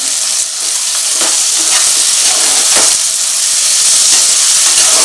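Ginger-garlic and green chilli paste sizzling loudly in hot oil, a steady bright hiss with occasional stirring scrapes, close by and without speech.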